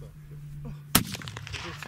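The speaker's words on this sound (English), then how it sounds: "last week I got to shoot out to 700 yards with the M1917" M1917 rifle fired at an outdoor range, one sharp loud crack about halfway through, followed by a short decaying echo over a faint steady hum.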